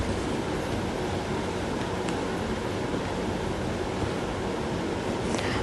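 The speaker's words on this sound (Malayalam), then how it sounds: "ഒരു കുറച്ച് നേരം ഇതിങ്ങനെ ഇളക്കണം." Shallots, green chilli and curry leaves fry in a pan as they are stirred, giving a loud, constant close-up sizzle with faint scrapes and no talking.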